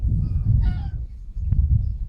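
A cinnamon lacewing ringneck parakeet in an aviary gives a short harsh call, then a brief sharp squawk a moment later, both close and loud over a dense low rumble of background noise.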